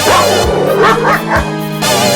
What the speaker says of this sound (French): Un chien aboya après eux et ils se défilèrent.